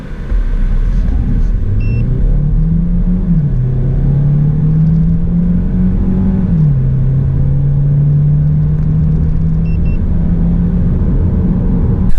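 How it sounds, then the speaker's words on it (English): A 2021 Kia Sorento Hybrid SUV under full acceleration, a loud steady cabin rumble with an engine drone rising in pitch, dipping at a shift, then climbing again, continuous and without talk. "So a full acceleration."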